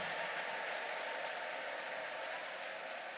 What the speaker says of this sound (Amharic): ሁሉም ሰው ለጌታ ክብር እልልታ ጭብጨባ ያመጣ